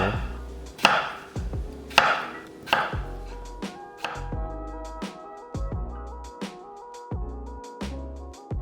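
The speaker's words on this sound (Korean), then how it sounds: "감자 400g은 한입 크기로 썰어서 담고" A knife chops potatoes into bite-size pieces steadily on a cutting board, about a dozen crisp thuds in an even rhythm, close and distinct with no talking.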